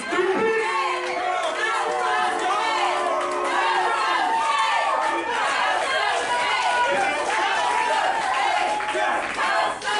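Dense, loud wrestling crowd at a pro wrestling show in Daytona Beach, cheering and shouting continuously throughout, with mixed voices and children's shouts blending into a steady roar.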